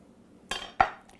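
A knife cuts a squid tentacle in half on a cutting board, giving two quick, crisp knocks half a second apart in a quiet kitchen.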